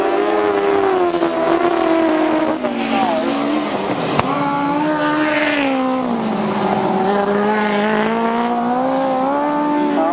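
Several 1000cc right-hand sidecar outfits race around a grass track, their engines droning loud and continuous with rising and falling pitch as they accelerate down the straight, under a commentator's voice.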